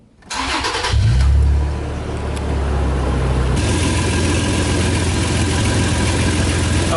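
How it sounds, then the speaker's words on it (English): A 2nd-gen Toyota Tacoma engine cranks and starts, briefly revs, then settles into a steady close idle with a faint irregular sputter from an exhaust leak, no talking. "I am hearing like a sputtering noise, and I put my ear up to it and I can feel exhaust leak coming out."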